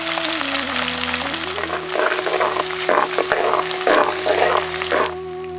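Garlic, mustard seeds, fenugreek, asafoetida, curry leaves and dried red chillies fry in hot oil for a South Indian garlic kuzhambu, giving a loud, continuous crackling sizzle that swells in bursts of spitting pops.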